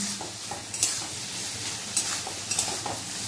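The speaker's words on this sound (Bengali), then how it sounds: "পেঁয়াজ লঙ্কা খুব ভালোভাবে লাল লাল করে ভেজে নিয়েছি।" Onion and chili fry in a pan with a steady, close hiss of sizzling oil, punctuated by a few sharp scraping clicks of a spatula stirring, with no talking.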